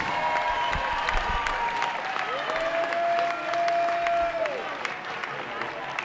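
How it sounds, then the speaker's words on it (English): A crowd claps for two Muay Thai fighters at a fight event at the Bradenton Area Convention Center in Florida, with a steady patter of hands and a sustained whistle-like tone in the middle of the roughly six-second burst. "how about a nice round of applause for both fighters"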